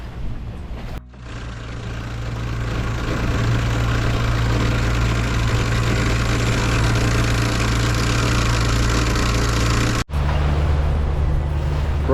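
The motor of a Lagoon 42 catamaran runs under full sail, a steady low droning hum with strong rumble, close and loud, briefly interrupted by a couple of knocks and dropouts, no voices.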